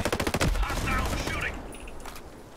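Assault rifle gunfire in the video game Ghost Recon Breakpoint, a loud rapid burst of close shots that fades out, with voices in the game behind it.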